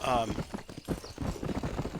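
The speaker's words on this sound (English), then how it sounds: "I can ride the horse and he'll just walk" Horse hoofbeats at a walk in the video game Red Dead Redemption, a soft clip-clop rhythm underneath someone talking throughout.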